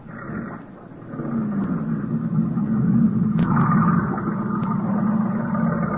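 A motorboat engine starts up after a brief quiet moment, catching into a steady low rumbling idle that grows louder and holds, with a rising tone joining partway through, close by in an old radio drama.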